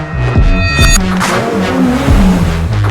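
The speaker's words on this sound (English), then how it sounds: "I don't know if crocodiles make this sound, but this sound is from a lion." A lion roar used as sound design for an angry crocodile, a loud, close, rough growling roar in several surging bursts, with processed reverberant texture.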